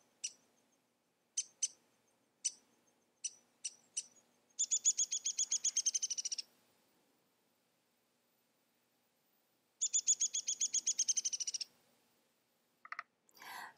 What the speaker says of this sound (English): have a descending, what's called a whinny, like a horse whinny, has a descending whinny, so it sounds a little bit like a horse